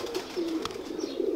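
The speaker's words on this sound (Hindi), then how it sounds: "ये कबूतर है जी, ये लाहौर से मुझे गिफ्टेड है" A pigeon gifted from Lahore coos close by in low, soft, drawn-out notes, two or three rolling calls within a second and a half, with no talking.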